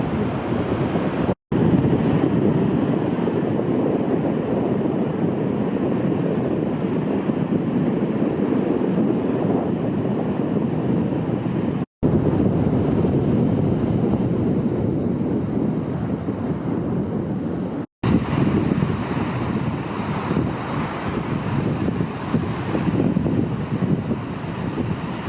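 On a beach in Eleuthera, steady wind buffets the microphone over a constant wash of surf, loud and unbroken apart from a few brief cuts.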